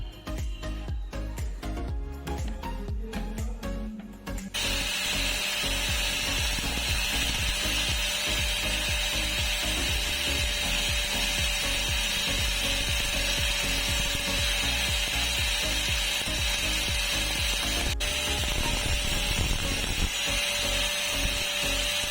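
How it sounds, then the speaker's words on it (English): An angle grinder working welded metal on a homemade overhead video stand: after a few seconds of clattering, a loud, steady grinding whine runs continuously close by, with no talking. "So for this I need to do grinding."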